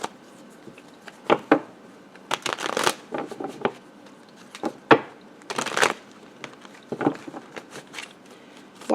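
A tarot card deck is shuffled in repeated bursts of riffling and slapping card sounds, close and fairly loud, with short pauses between rounds and no talking.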